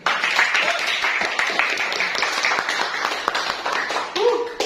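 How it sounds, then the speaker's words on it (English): Audience applause at a student English debate, a dense sustained burst of clapping that carries on for several seconds, with voices mixed in. "So can we guys have a clap together?"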